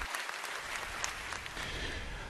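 An audience applauds at a Rick Santorum campaign event, a steady, even patter of many hands clapping, somewhat distant and fairly quiet throughout.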